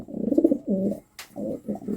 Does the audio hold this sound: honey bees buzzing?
no